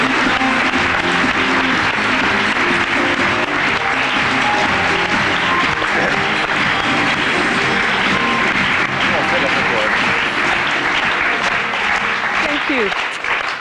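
A studio audience at a French television show applauds to welcome Kathleen Jones, with sustained, dense clapping and crowd noise carrying on steadily throughout.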